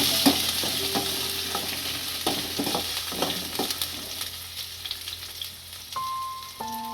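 Ginger, chilli and garlic paste stirred in well-heated oil for hotel-style soya chilli, a steady close sizzle with scraping spatula strokes and clinks throughout, fading slightly toward the end.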